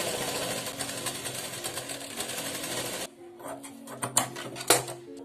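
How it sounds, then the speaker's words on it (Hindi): Sewing machine stitching the side seam of an umbrella-style bell sleeve with frill and lace trim, running steadily for about three seconds, then stopping and giving way to a few sharp clicks and handling knocks. "आप इसको सिल लीजिए साइड से"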